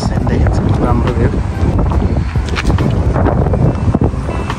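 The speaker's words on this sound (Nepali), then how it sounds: "यहाँ हावा एकदमै चल्छ होइन" Strong wind gusts at the Baneheia lake viewpoint, a loud, steady, broadband rush that buffets the microphone throughout with no letup.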